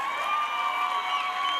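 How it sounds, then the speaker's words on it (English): An audience at a youth week event cheers, with a steady wash of raised voices and shrill, sustained whoops and whistling tones carrying on without pause. "Let's give him another round of applause."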